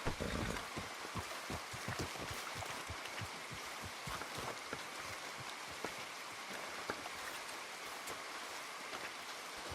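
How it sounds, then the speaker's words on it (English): Steady rainfall in the Red Dead Redemption 2 video game, a dense continuous patter of drops on surfaces with occasional louder splashes, filling the scene evenly without voices. "Come on, it's raining."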